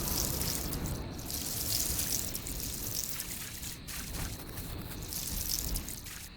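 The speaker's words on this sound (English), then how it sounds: "we may as well water this right now as well" Water pouring steadily from a watering can onto crops in the farming game Dinkum, a continuous hissing splash with faint dribbles and drips, close and unbroken, with no talking.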